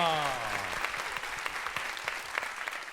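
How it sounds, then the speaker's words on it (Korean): Studio audience applauding as a guest is welcomed onto a Korean talk show stage, a steady dense wash of clapping that carries on throughout without any speech. "박수 한번 주세요"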